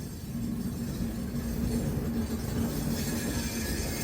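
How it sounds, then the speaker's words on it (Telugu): A Jaipur Metro train runs along the elevated track overhead, a steady low rumble of rolling wheels with a faint squealing edge, heard from inside a moving express train at moderate distance. "పైన మెట్రో ట్రైన్ వచ్చింది"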